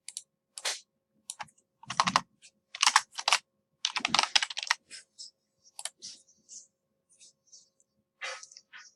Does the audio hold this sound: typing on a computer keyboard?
yes